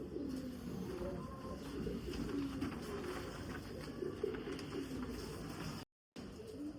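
Pet pigeons cooing in a household coop, a steady layered murmur of soft repeated coos close by, continuous throughout with a brief dropout near the end.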